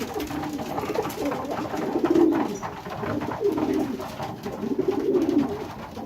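Racing pigeons coo steadily in a loft, a low throaty burbling from several birds that swells and fades over the whole stretch, close and moderately loud with no talk.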